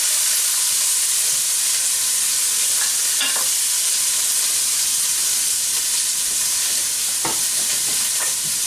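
Sautéing in a hot pan, stirred with a spoon: a steady, loud, close sizzle runs throughout, with a few brief scraping and clinking stir sounds on top.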